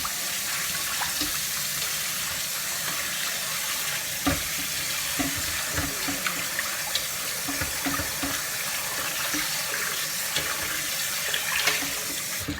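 Water runs from a tap into a cast iron Dutch oven, a steady hissing splash with faint scraping and knocks of the pot over about twelve seconds, no voices.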